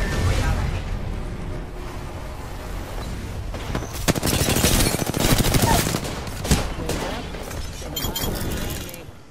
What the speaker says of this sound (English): We got another squad. Fire. Opening fire.